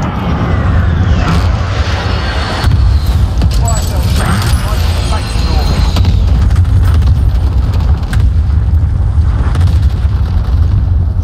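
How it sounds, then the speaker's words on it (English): Cluster strike explosions in a first-person shooter video game, a dense barrage of rumbling booms and blasts filling the whole stretch, with game voice callouts mixed in. "Enemy cluster strike incoming."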